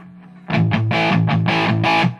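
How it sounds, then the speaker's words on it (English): Electric guitar played through a Marshall Mode Four MF350 amp with distortion and reverb: a loud, saturated riff of several sustained, chugging chords with a reverberant tail, alone with no talking. "That's just the amp with the reverb"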